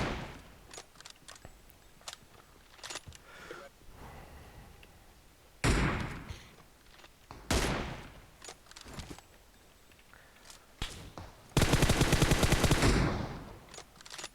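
Gunfire in PUBG Mobile on the Miramar desert map: scattered sharp single shots, mostly distant, then a few louder close cracks and a dense rapid burst near the end, with no speech.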